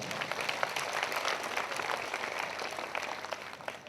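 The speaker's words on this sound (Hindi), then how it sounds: "जोरदार ताली भी परमेश्वर" A congregation at a prayer meeting claps loudly and steadily, a broad continuous wash of applause from a large gathering with no pauses.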